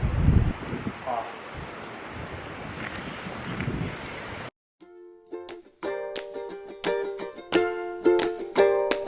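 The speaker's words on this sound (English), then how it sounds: "Darn you, wind." Gusts of wind buffet a microphone outdoors beside a historic resort pool, making loud low rumbling bursts for the first few seconds. A sudden cut follows, then a sharp tonal clicking pattern.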